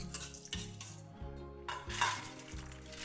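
Spices crackle and sizzle in hot oil for a dal tadka, with steady frying hiss, a few stirring scrapes and light clinks of utensils against the pan.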